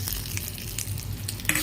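Curry leaves sizzling in hot oil in a pan as a tempering for bottle gourd chutney, a steady close frying hiss with a light stir or clink near the end.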